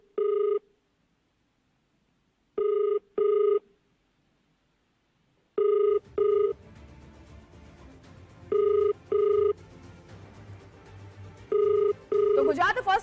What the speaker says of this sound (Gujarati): આપણે ફોન કરી રહ્યા છીએ